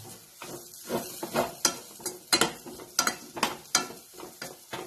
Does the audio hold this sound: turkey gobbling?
no